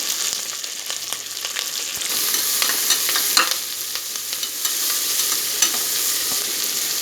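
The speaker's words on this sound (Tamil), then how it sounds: "நம்ம எடுத்து வச்ச வெங்காயம் பச்சை மிளகா கருவேப்பிலை சேர்த்துக்கிறோம் இதை நல்லா ஃப்ரை பண்ணுறோம்" Onion, green chili and curry leaves fry in oil with a steady, close sizzle, broken by scattered scrapes and taps as they are stirred, with no speech.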